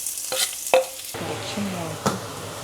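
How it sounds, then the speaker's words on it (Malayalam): Chopped onion tumbles into hot oil already crackling with mustard seeds and dried red chilli, setting off a sudden bright sizzle, with a scrape or two of a spoon against the pan, close and without talk. "അരിഞ്ഞ് വെച്ചേക്കുന്ന സവാള ഇടാം."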